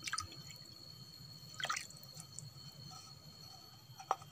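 A few soft drips and splashes of liquid poured over termite nest material, spaced irregularly over a low background hum, with one sharper drop near the end.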